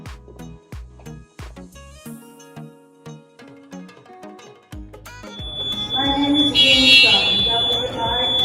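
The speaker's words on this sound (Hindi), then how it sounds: "रात के 2 बजे यानी कि मिडनाइट को फायर अलार्म बजना चालू हो गया था" A hotel fire alarm goes off at night, its loud, steady high-pitched electronic tone rising after a stretch of sparse knocks and clattering.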